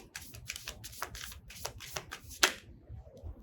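Tarot cards are riffled and flicked during a reading, giving a quick series of crisp papery snaps and slaps with one sharp loud flick, close and mostly alone.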